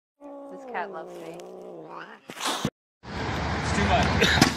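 A cat gives a long, drawn-out yowling meow up close, then a burst of rustling and scuffling follows after a brief silence.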